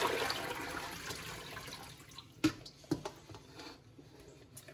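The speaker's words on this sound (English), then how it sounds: "then I'm just gonna dump this water out." Water is dumped out of a container after defrosting bone broth ingredients, a brief pouring splash that trails into a few louder splats and drips, close and fairly quiet.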